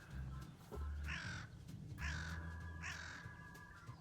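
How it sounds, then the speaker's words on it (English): A crow caws three times in open fell country near Little Langdale in the Lake District, each harsh call clear and moderately near against a quiet outdoor background. "and a crow."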